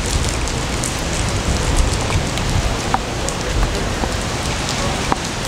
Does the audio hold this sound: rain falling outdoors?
yes